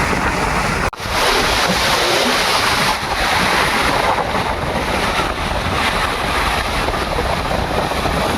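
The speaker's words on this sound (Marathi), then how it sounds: "आणि इथे लाटा बघा" Rough monsoon sea waves at Harihareshwar surge and roar continuously, a dense loud wash of surf mixed with heavy wind buffeting, with a brief dropout near the start and no speech.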